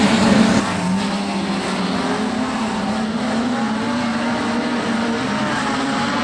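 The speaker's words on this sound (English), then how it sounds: "We're racing Richard Cook" Production sedans race at Kingaroy Speedway in a Silver Helmet Series heat: a steady, loud roar of engines and tires with no break and no voices.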